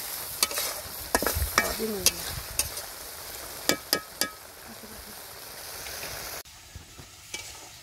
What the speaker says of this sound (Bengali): মাছটা আমি অনেক সুন্দর ভাবে কষিয়ে নিছি